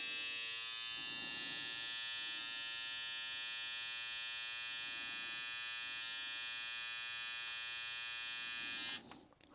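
A BaByliss x Tomb 45 T45 hair trimmer runs on its high speed setting, a steady close buzzing whine with a fixed pitch that holds unbroken until it cuts off abruptly near the end.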